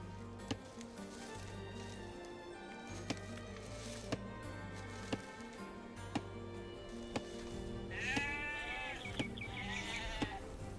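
Sheep bleating in Age of Empires 2 on Xbox, a faint wavering bleat late in the clip over looping game music with regular soft clicks.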